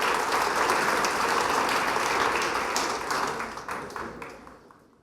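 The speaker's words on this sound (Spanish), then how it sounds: "Démosle un aplauso al Señor." A church congregation gives a sustained round of applause, dense and close at first, then thinning into scattered claps as it fades away over about five seconds.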